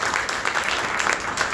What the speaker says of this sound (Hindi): तो तालियां बजाइए एक बार शास्त्री जी को भी